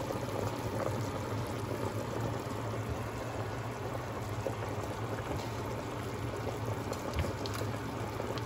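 Pork rib stew with potatoes and carrots bubbling in a pot, a steady, even simmering burble that continues unbroken at moderate level with no voices.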